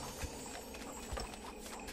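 Horse hooves clip-clopping in the Stronghold Legends strategy game during a battle, a steady run of soft hoofbeats with two heavier thuds, alone and without talk.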